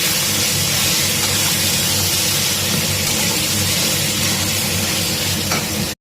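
Taro leaves hitting a hot frying pan with garlic and onion, a loud steady sizzle and hiss that fills the scene close up, continuous without break until it cuts off.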